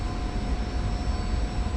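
F-86F jet engine taxiing in the DCS flight simulator, a steady, loud roar with a constant whine held at one pitch throughout the short stretch.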